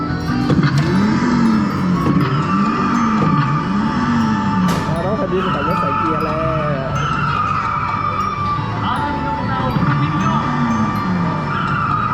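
A coin-operated arcade sports car racing game roars with a steady engine drone, skidding and warbling siren-like effects, loud and continuous, while people talk over it.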